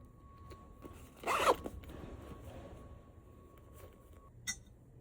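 A pencil case is zipped in one quick, loud pull, with soft handling rustles before and after and a brief click near the end, close by in a quiet room.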